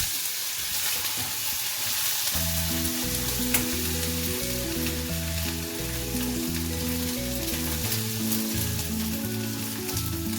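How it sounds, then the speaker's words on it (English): Ginger, green chili and curry leaves frying in hot coconut oil, giving a loud, steady, close sizzle that runs throughout, with a lower rhythmic tonal sound underneath and no talking. "We are adding the ginger and chili and our kadi patta to this."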